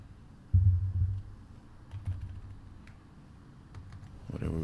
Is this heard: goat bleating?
no